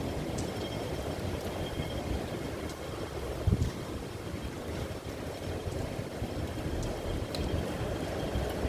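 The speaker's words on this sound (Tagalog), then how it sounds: "Talagang sobrang lakas ng hangin ngayon." Strong typhoon wind in Hong Kong during a Signal Number 10 storm, a constant low roaring rush with buffeting on the microphone and one brief knock, no voices.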